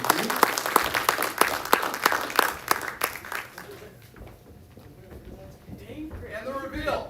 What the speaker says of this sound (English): Can we give all the judges a round of applause